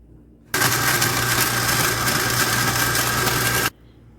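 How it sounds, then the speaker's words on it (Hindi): Electric kitchen grinder whirring through chopped almonds for badam ice cream, a loud high-pitched motor buzz that starts abruptly, runs steadily for about three seconds, then cuts off. "इसको आप ग्राइंडर में डालेंगे"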